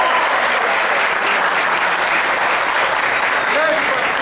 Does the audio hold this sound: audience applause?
yes